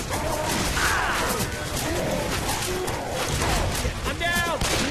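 Tank zombie attacking in Left 4 Dead 2, a dense, loud barrage of crashing impacts and gunfire-like bursts filling the whole stretch, with a ringing metallic tone near the end and a voice talking over the chaos.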